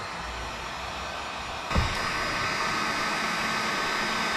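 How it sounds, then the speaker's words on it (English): A heat gun blows steadily to dry a handmade monster-eye prop, a constant close hiss of air with a faint bump partway through. "Now we're just going to use a heat gun just to speed up the drying process."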